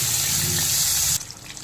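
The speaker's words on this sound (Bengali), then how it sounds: "দেবো কিছুটা মশলার বাটি দেওয়া জল" Water from a spice bowl is poured into a pan of oil with black cumin and spice paste for a Bengali aubergine dish, a short loud gushing splash that cuts off abruptly.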